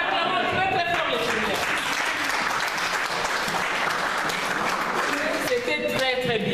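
Church congregation applauding loudly and steadily throughout, a dense sustained wash of clapping with voices calling out over it.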